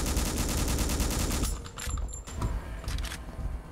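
Rapid, evenly spaced gunfire from a weapon in the video game Gynophobia rattles loudly for about a second and a half, then gives way to a few scattered impacts and clatter.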